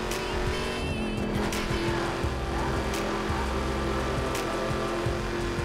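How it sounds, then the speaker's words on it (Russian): A racing car engine in the video game The Crew roars steadily throughout, with occasional tire squeals, under loud continuous music. "Главное, я слышу рев мотора"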